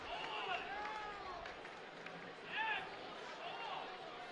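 A football stadium crowd at a New Mexico United versus Hartford Athletic match gives off a low, steady buzz of murmuring and cheering that swells briefly partway through, heard faintly beneath a commentator's continuous talk.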